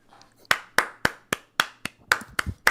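Sharp, close hand claps ring out one at a time in a slow, fairly even rhythm, nine or ten in all, with a quiet gap before the first.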